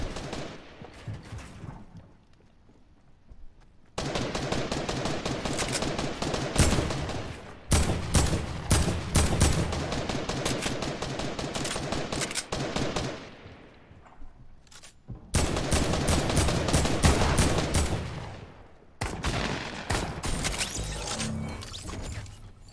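Gunfire in the Fortnite video game comes in dense rapid bursts, loud and close, separated by short quiet gaps, with no talking.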